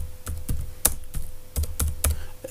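Fingers type on a computer keyboard at a desk, producing quick irregular clicks and key taps up close over a low steady hum, with no talking.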